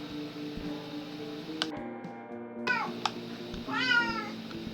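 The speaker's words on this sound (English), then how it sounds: "I also don't let that one in because he just meows for no reason" A house cat meows a few times, with a drawn-out call and a later rising meow, close by over a steady background hum with occasional clicks.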